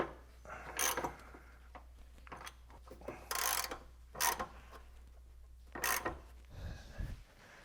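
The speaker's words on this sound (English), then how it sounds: "I'll also snug the brace bolts with a 16mm." A 16mm wrench snugs the sway bar brace bolts on an MK8 GTI, giving several short metallic ratcheting bursts spread across the clip over a low steady hum, with no talking.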